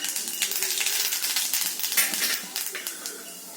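Mustard seeds and urad dal splutter in hot sesame oil for a sambar tempering, a dense, close crackle of rapid popping and sizzling that holds steady and then eases slightly, with no talk.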